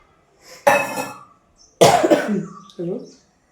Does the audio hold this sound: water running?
no